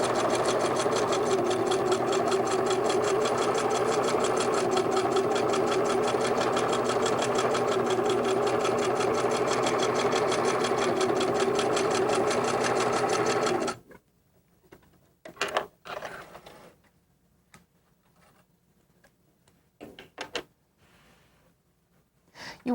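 Sewing machine stitching a quilt gives a loud, rapid, continuous mechanical whir for about fourteen seconds, then stops, leaving a few soft handling knocks and clicks.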